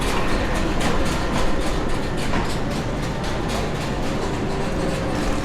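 A passenger train rolls along rails in France, a steady loud rumble with faint rhythmic clicking of the wheels, heard from inside the carriage.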